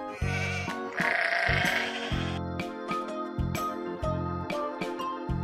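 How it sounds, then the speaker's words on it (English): Sheep bleat repeatedly in close, loud, wavering calls that overlap one another, with faint jingling bells between the cries. "Sheep."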